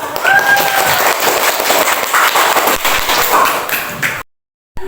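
A classroom of schoolchildren applauding together, a dense loud burst of clapping lasting about four seconds before cutting off abruptly.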